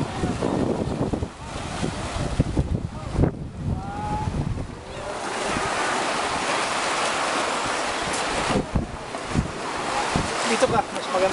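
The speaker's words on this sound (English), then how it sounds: "This is Tampa Beach" Surf breaks and washes on a beach at St. Petersburg, Florida, a steady rushing roar with wind buffeting the microphone and occasional voices.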